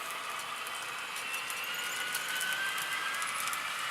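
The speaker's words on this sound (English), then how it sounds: "there's a loud whine of engine like it's at high RPM" A GE Evolution Hybrid locomotive runs at high RPM, giving a steady, continuous whine with a broad mechanical roar beneath, moderately loud and unbroken, with no talk.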